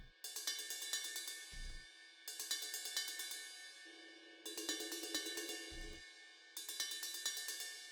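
Equalized ride cymbal in a metal mix, repeated bursts of crisp, articulate pings with sustained wash, a low drum thud underneath twice, played alone without talk.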